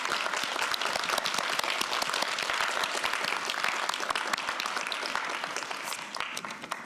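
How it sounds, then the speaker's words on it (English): Sustained audience applause at the opening ceremony of the 14th China Education Symposium, many hands clapping in a dense, even roar across a large hall, steady throughout and easing slightly at the end. "Everyone, please give them a round of applause."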